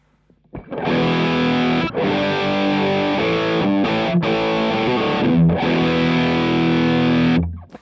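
Electric guitar played through a Nux Cerberus pedal's distortion channel, modeled on an Angry Charlie to mimic a cranked Marshall JCM 800, rings out in loud, thick sustained chords with a few brief breaks between strums.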